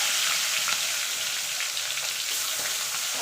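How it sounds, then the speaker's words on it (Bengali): Tangra fish frying in hot oil, a loud, dense, continuous spitting sizzle close up with no voices. "এবার ট্যাংরা মাছগুলো ভেজে নেব।"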